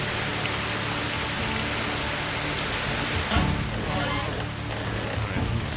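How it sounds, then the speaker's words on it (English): Heavy storm rain in the Medieval Dynasty video game, a dense, steady roar of downpour that fills the whole stretch at constant loudness, with no talking over it. "Yeah, that's the rain. Is it too loud?"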